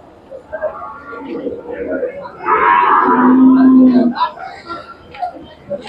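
A large Khillar cow at the Sangola Sunday cattle market in Solapur gives one drawn-out low moo close by, with people chattering and talking around it before and after.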